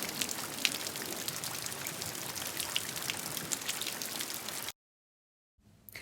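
Steady rain patters down across a garden, a dense close hiss with scattered droplet ticks that cuts off abruptly near the end, then faint rain returns.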